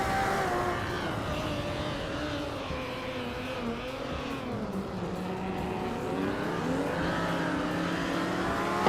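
Vintage racing Ferraris and a 1965 Lamborghini 400 GT in a close race, engines droning steadily with shifting, rising and falling pitch as the cars push on, continuous and fairly loud with no talking.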